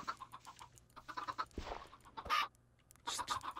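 Chickens squawk and cluck repeatedly as they are struck in a Minecraft game, a choppy run of clustered bird calls with short bursts and brief pauses, fairly close and moderately loud.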